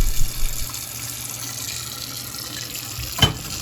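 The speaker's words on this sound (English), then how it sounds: "give it a quick rinse, and you can see the inside is fairly clean" Tap water runs steadily into a tumbler being rinsed, a continuous close wash of water with a brief splash or knock near the end.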